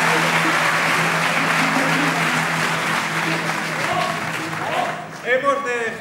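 Applause for a university medical school student music group at a national festival of such groups in Valencia. Dense, loud clapping from a large crowd persists for about five seconds, then fades out as a voice begins speaking.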